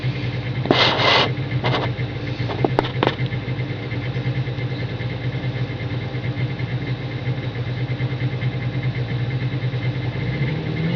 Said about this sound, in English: gotta listen to that motor again